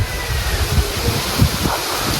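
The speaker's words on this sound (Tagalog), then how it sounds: "Mahangin dito" Gusty wind among coconut palms buffets the microphone with low rumbling bursts over a steady airy rush, loud and close.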